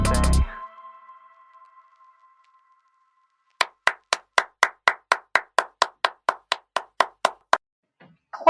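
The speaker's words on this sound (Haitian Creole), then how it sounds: "Applaudissez encore, applaudissez." Sharp hand claps, about sixteen of them, beat out in a steady, evenly spaced rhythm. They come after a loud opening burst and a long stretch of silence, with no talk over them.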